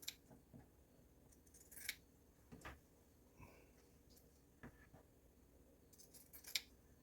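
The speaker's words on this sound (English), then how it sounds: "And I'm cutting about a half inch above the hem." Scissors snip through a single layer of T-shirt fabric just above the hem, several quiet, scattered cuts with small clicks and rustles, close and alone without talk.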